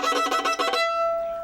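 A short, high squeaky chirp from a violin bow pressed too hard wavers and pulses for under a second, then fades into a thin lingering tone.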